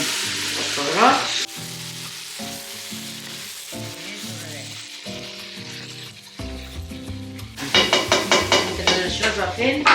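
Chopped onion frying in a pot with a few bay leaves as the base of a potato and veal stew, sizzling and clattering utensil strokes over background music, with a rapid run of stirring clinks near the end.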